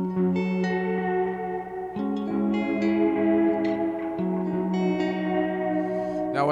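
An electric guitar played through an amp's built-in spring reverb: a sequence of picked notes and chords, each ringing out with a washy, echoing tail, steady and fairly quiet, with no voices.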